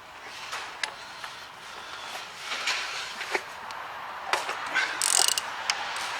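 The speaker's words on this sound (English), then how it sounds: "I'm just going to take off the oil filter first, which is a 32mm socket." A 32mm socket wrench works loose the oil filter on an Audi A3 1.4T during a service, giving scattered metallic ratchet clicks and clunks at close range, with no talking.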